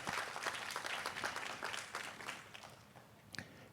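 A school district audience claps for student performers, a fairly distant, moderately full round of applause that thins out toward the end, with a few last claps.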